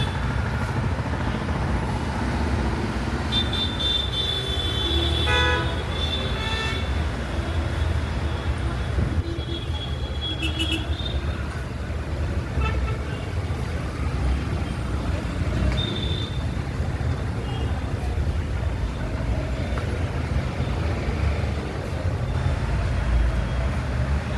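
Night road traffic in Talawade Gaon, Pune, with heavy logistics trucks passing: a steady, loud rumble of engines throughout, broken by several short horn honks near the start and middle, with faint voices in the background.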